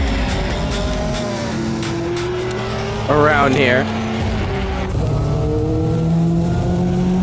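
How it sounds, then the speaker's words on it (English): Race cars roar around Laguna Seca in the Assetto Corsa racing game, a steady engine drone with rising pitch under a commentator talking throughout. "as we hear these cars scream"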